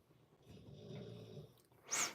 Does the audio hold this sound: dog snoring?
yes